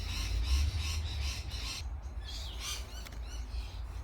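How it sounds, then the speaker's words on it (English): Parrots squawk and chirp from a neighbour's apple tree, a run of harsh, fairly close calls repeating over a steady low rumble of outdoor background noise. "The parrots are going crazy because of my neighbor's apple tree."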